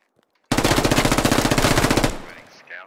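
A long burst of rapid automatic gunfire in a tactical military shooter game, loud and continuous for about a second and a half, then cutting off into a short fading echo.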